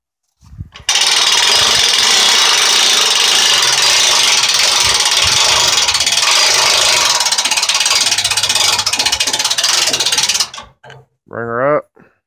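A homemade wrecker's boom is cranked up: a loud, steady mechanical roar like a running motor holds for about ten seconds, then cuts off, followed by a brief rising whine and a short voice.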